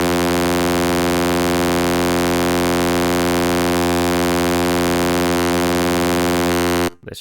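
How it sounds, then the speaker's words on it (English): A sustained, buzzy Serum 2 synthesizer tone with a warbling metallic edge from frequency modulation, holding steady for several seconds before cutting off abruptly. "Let's try frequency modulation."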